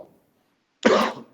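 A single short, loud cough sounds close by after a moment of near silence.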